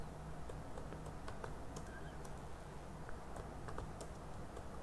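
Typing on a computer keyboard while entering text for a PHP and MySQL e-commerce customer registration page; faint, steady light key clicks run continuously under a constant background hum, with no talking.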